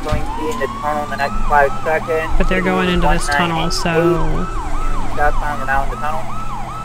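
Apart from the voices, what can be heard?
police Tahoe siren in a video game (GTA roleplay)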